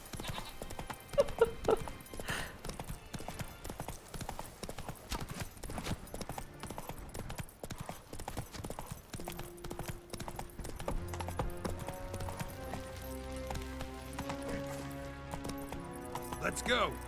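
Geralt's horse Roach in the Witcher 3 video game gallops with a steady rapid clip-clop of hooves through trees and elven ruins, mixed with game music and ambient sound, with a brief whinny and talk over it.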